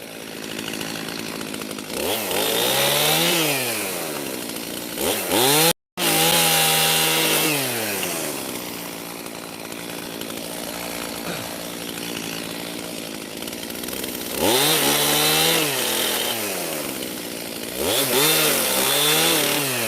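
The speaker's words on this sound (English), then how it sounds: "I'm carrying a chainsaw" A chainsaw runs loud and close, revving up and down repeatedly as it bites through limb wood for firewood, with one brief cutoff partway through.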